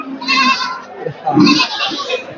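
Garole sheep bleat at a busy livestock market, the first bleats long and wavering up close, a second one rising after a pause amid crowd murmur, with people talking nearby.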